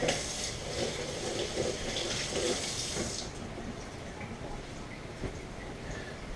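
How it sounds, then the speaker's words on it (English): A kitchen tap runs steadily for rinsing hands, a continuous close hiss of flowing water that eases slightly after a few seconds, with no one speaking. "I need the water on. Rinse my hands."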